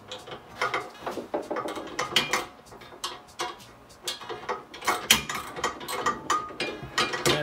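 A socket ratchet clicks rapidly in repeated bursts while tightening a neoprene lock nut on a double arm mount, the close, sharp pawl ticks coming in uneven strokes.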